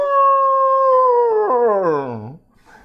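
A mimicry artist imitates a small, aging white-furred Alsatian dog howling: one long, loud sustained howl that holds steady, then wavers and slides downward before breaking off, alone with no talk.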